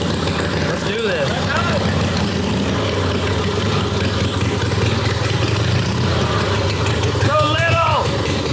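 A motorcycle engine runs steadily and loudly throughout, a continuous close rumble, with voices talking over it in brief bursts.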